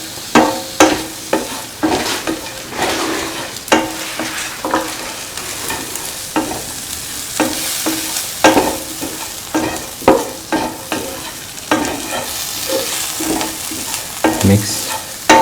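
Coriander powder and turmeric frying in a pan for a bitter gourd tamarind stew, loud sizzling broken by regular scraping strokes of a spoon stirring, close up and continuous throughout.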